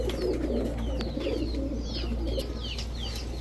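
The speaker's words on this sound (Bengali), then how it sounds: "তো এই হচ্ছে ইন্ডিয়ান হাই ফ্লায়ার কবুতর" Indian High Flyer pigeons coo in a low continuous rumble nearby, with scattered sharp chirps from other birds over the top throughout.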